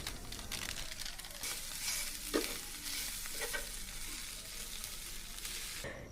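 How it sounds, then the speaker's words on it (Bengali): A boiled potato and chicken filling is stirred in a hot pan, producing a continuous close sizzle broken by scraping and clattering from the spoon against the pan. "এখন এই মিশ্রণটিকে একসাথে নাড়াচাড়া করার পর একটি ম্যাজিক মশলা দিয়ে দিব"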